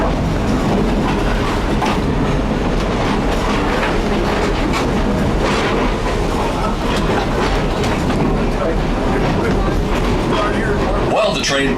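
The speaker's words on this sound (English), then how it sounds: "While the train pulls into Hill City, please stay seated until we have come to a complete stop" A tourist train rumbles steadily with rhythmic clacking of wheels on rails as it pulls into Hill City station, continuous and fairly loud, with faint voices in the background.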